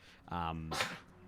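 A single short, sharp human sneeze at a tabletop roleplaying session, preceded by a brief voiced intake, fairly close and loud.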